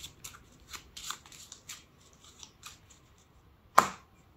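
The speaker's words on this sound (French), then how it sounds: "Et donc nous on fait la même chose et on mélange." Playing cards are shuffled by hand during a card magic trick, giving a run of crisp riffling bursts followed by a loud single snap near the end, close up with no talking.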